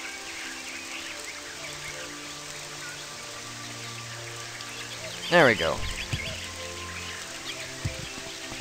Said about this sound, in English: God, and the stupid rain and the weather